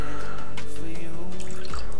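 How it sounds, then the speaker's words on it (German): Water is poured into a sauce in a Dutch oven for spareribs, with short splashy trickles and drips close by over about two seconds. "Ich habe jetzt noch mal ein bisschen Wasser hier dazu zu geben."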